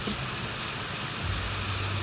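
Steady heavy rain pours down in a dense, continuous hiss with a low rumble underneath, no voices.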